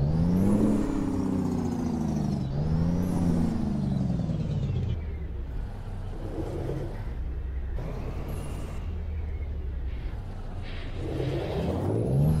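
A heavy truck engine in American Truck Simulator revs up and down in repeated sweeping surges as the retarder engages, with a loud, close, droning rumble and a whine rising over it throughout.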